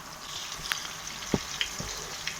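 Meat cutlets sizzle steadily in a frying pan, a soft continuous crackle with a few sharper pops, quiet and close with no talk.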